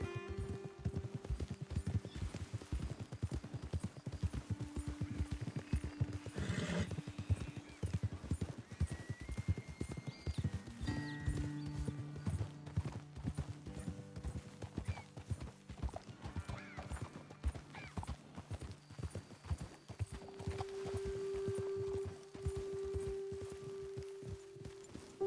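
Horses ridden at a walk in Red Dead Redemption 2, hooves clip-clopping in a steady uneven rhythm close by, with an occasional snort or whinny and faint tack rattle over a low ambient background.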